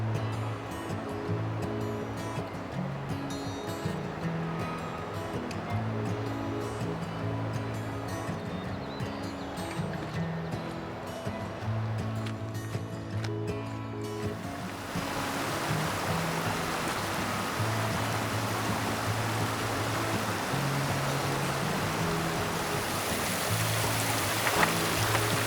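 A mountain creek beside a trail in Grand Teton National Park on the Paintbrush to Cascade Canyon loop rushes as a steady broadband wash, faint at first under a low tonal hum, then swelling fuller and closer halfway through.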